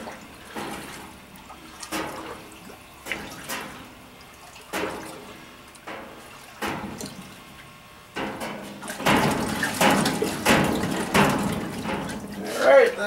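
Evapo-Rust liquid sloshes around inside a Chevy 400/355 engine block in a barrel, with intermittent watery splashes and swishes that grow denser and louder toward the end, close by.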